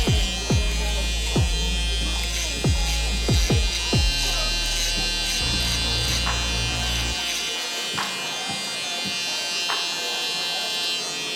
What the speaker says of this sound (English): Now we'll follow it up with the shaver to get it nice and close to the skin.